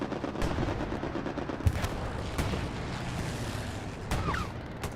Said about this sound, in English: Strafing run on its way.